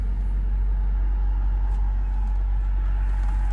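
An old L322 Range Rover with around 400 horsepower builds revs under hard acceleration, a steady loud engine drone and deep low rumble that holds throughout with a faint rising tone.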